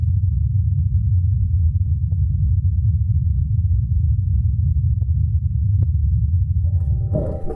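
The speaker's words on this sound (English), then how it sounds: "this is a recording of the Ingenuity helicopter in flight" Ingenuity, NASA's small helicopter, flying on Mars and picked up by the Perseverance rover: a steady low droning hum from the spinning rotors holds throughout, with a few faint clicks and a brief higher tone near the end.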